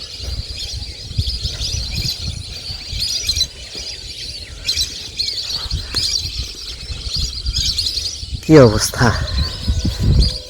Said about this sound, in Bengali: পাখিদের কোলাহল।